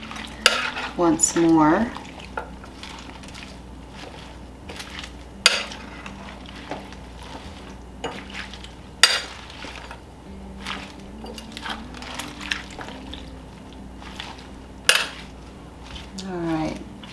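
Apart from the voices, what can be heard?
stirring German potato soup ingredients in slow cooker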